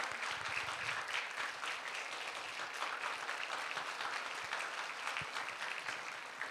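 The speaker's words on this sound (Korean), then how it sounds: "큰 박수로 축하해 주시기 바랍니다." Steady applause from the congregation at a church discipleship-training graduation ceremony, dense continuous clapping heard at a distance and fairly faint, with no talk over it.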